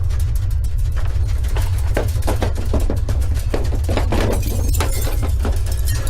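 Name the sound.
glass breaking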